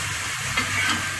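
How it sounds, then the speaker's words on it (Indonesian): Squid sizzling and frying in a pan while being stirred, a steady continuous crackle at close range with no talking. "Sotongnya digoreng dulu setengah matang."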